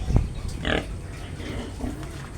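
A native pig grunts in a backyard pen, giving several short low grunts and snorts at close range over faint background noise.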